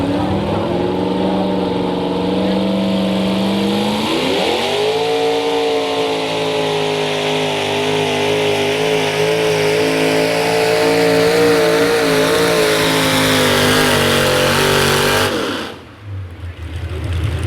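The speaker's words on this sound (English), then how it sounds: "One of the most reliable tractors." A loud pulling tractor engine at a tractor pull roars steadily with heavy harmonic drone, rising in pitch after a few seconds and holding, then cutting off abruptly near the end.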